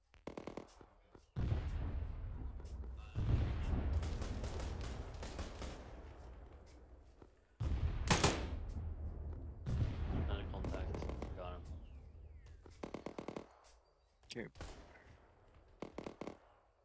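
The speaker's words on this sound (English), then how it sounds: "Is that a mortar coming in?" Incoming mortar fire in the military shooter ArmA 3, heavy booming blasts and rumbling impacts spread across a long stretch of battlefield noise, with several sharp bursts and quieter gaps between them.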